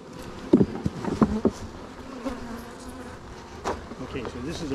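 Honey bees buzzing at an opened hive during a honey harvest, a close, dense continuous hum with louder passes and occasional handling knocks.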